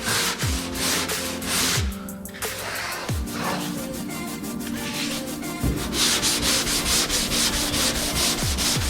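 Block sanding of primer on a Z28 car body, with steady back-and-forth abrasive rubbing strokes, close and continuous, and periodic heavier thumps as the block changes direction.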